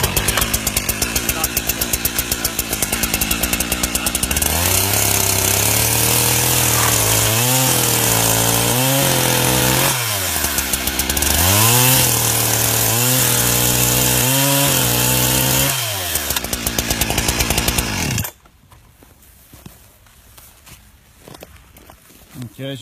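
Chainsaw running close and loud, steady high whine rising and falling as it revs and bites through wood in several cuts, then cutting off abruptly near the end with quieter handling noise afterward.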